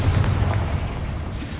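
A Confringo fire-blast spell explodes in Hogwarts Legacy during a fight with spiders, a dense, rumbling boom that fills the whole short moment, loud and continuous.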